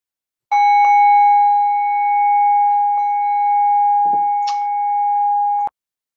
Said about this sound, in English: so just check you can hear the bell